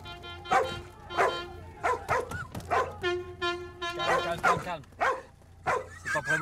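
A dog barks and yips in a quick series of sharp bursts, some stretched into whiny, toot-like cries, close and loud, with someone speaking in between.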